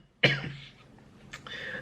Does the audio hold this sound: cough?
yes